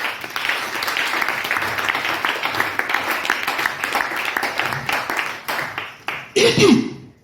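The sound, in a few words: congregation applauding the Lord in church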